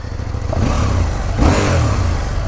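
Engine of a 2019 KTM Duke 790 motorcycle accelerates, a close, continuous rumbling roar with a surge as the throttle opens, heard with wind noise while riding.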